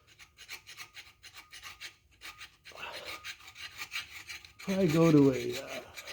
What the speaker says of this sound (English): I'm pushing straight on the file. I'm trying to hold it as flat as I can